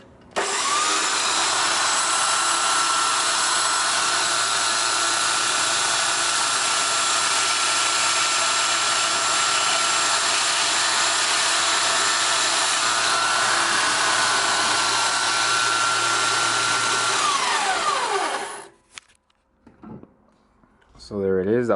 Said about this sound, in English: Then I just turn it on and use it as a grinder to bevel the edges